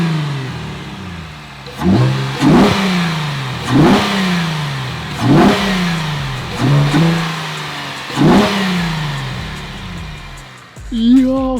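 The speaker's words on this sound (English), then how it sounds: "we're going to get the first warm start. And I'll give it a couple revs" A Chevrolet Camaro with a Volant Performance intake warm-starts and revs repeatedly, about six sharp rising blips at a steady rhythm, loud and close, settling between each rev.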